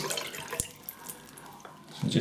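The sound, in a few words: water added to a shaving soap lathering bowl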